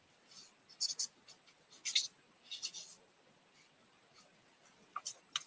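Pen writing a word on paper, light scratchy strokes in short bursts with pauses between them, close and quiet against a faint background.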